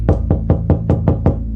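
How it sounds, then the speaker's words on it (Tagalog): Seven firm knocks strike a door in quick, even succession, each a close, loud thud with a short woody ring, set against a low rumbling background with no one speaking. "may kumatok sa amin."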